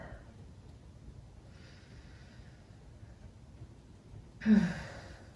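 A soft, drawn-out exhale during child's pose in a yoga session, quiet and close, ending in a louder breathy release near the end over faint background hiss.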